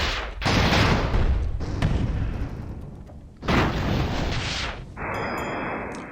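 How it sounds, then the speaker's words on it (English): Incoming rocket attacks in the airship game Airships: heavy booming blasts and sustained roaring rumble, loud and dense, with a second big impact partway through, followed by a thinner hiss with faint tonal beeps. "We're going to have a lot of rockets coming."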